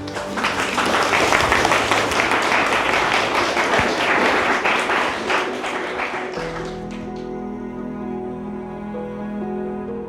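Wedding guests at a manor house ceremony burst into lively clapping that fills the room for several seconds, then fades out as soft sustained music takes over.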